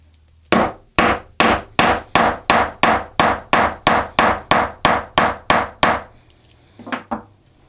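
A hammer strikes a metal ring on a tote bag in a rapid, even series of about fourteen sharp, close whacks, followed by two lighter taps after a brief pause.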